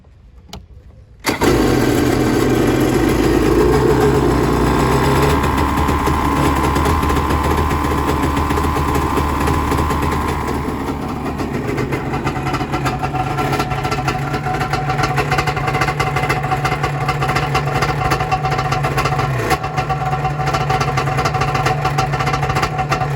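A 2001 Yamaha XL 700 jet ski with a small two-stroke engine cranks and fires up abruptly, then settles into a loud, steady buzzing idle that holds close and unbroken, its tone shifting slightly midway.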